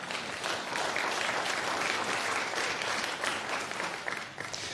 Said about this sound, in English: So if we could have a round of applause for all three.